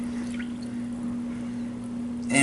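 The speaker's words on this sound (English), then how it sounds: "You want to add about 1 1/3 cups of warm water." Warm water pours steadily for blooming yeast while making focaccia bread. The pour is a continuous wash of sound over a low steady hum, with a brief louder splash at the end and no talking.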